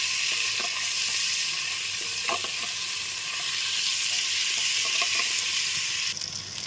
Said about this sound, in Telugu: కొంచెం పసుపు అల్లం ఎల్లిగడ్డ వేసి కూడా ఫ్రై చేసుకోవాలండి